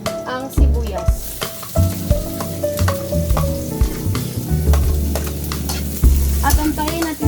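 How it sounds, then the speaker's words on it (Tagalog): Garlic and onion sizzle loudly in hot oil, a dense continuous crackle broken by repeated clanks and scrapes of stirring in the pan, close and steady throughout. "inilagay ko na nga ang bawang at isusunod ko na rin ang sibuyas"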